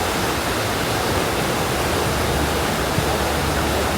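A waterfall roars steadily and loudly, a dense unbroken rush of falling water with no voices over it.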